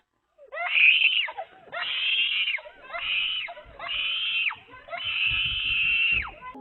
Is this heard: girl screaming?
yes